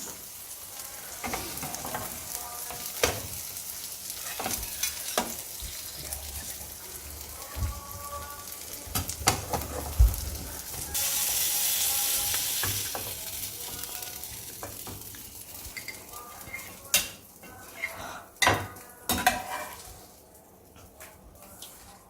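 An omelette fries in a pan, worked with two spatulas: a constant close sizzle with scraping and tapping strokes, a louder hissing surge midway, then sharp clinks of the utensils toward the end.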